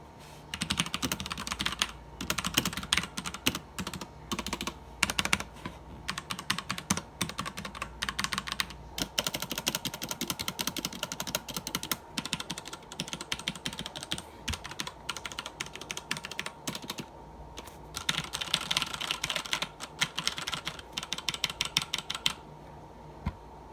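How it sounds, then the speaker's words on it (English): Steady, rapid typing on a computer keyboard, close up, with dense plastic key clicks running continuously for the whole stretch and no talking. "So that is a little bit better sound quality version of what this keyboard sounds like."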